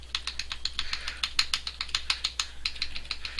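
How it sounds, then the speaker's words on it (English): Computer keyboard arrow keys clicking rapidly during play of the TIE Fighter PC game, a quick steady run of sharp plastic taps, fairly close and alone. "That's the sound of my arrow keys."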